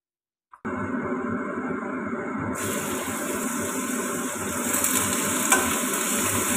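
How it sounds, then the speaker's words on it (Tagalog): Sliced ham sizzling loudly and steadily in a hot pan, a continuous close frying hiss that brightens and intensifies partway through, with a faint clink just before it starts. "So, iprito na natin."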